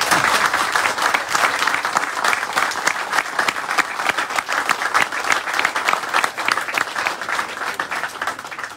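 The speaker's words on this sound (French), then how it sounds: "Vous pouvez l'applaudir très fort." An audience at a small-town football club gathering in Thenon gives Maxence a hearty round of applause. Many hands clap loudly and continuously, with slight swells and dips, and no voices rise above it.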